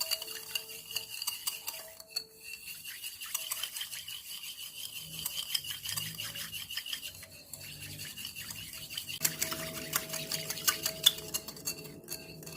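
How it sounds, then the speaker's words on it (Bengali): Milk and sugar mixed by hand in a bowl for a sponge cake, with continuous close scraping and stirring strokes and no talking. "এখন দুধ আর চিনিকে খুব ভালো করে মিশিয়ে নিতে হবে।"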